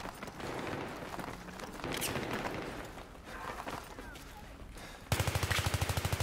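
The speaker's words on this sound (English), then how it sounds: "Get some shots down, but firing a bit too much there back." Video game gunfire from Battlefield 3 Venice Unleashed on the Metro map in a 5v5 match, a dense spray of shots and combat noise, ending in a loud, evenly spaced automatic burst near the end.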